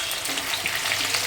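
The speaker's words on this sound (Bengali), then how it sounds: "এবার পেঁয়াজ কুচিটা একটু ভাজা ভাজা হবে" Chopped onions with a little sugar sizzle and fry steadily in hot oil, a dense, even crackle close by for a brief moment.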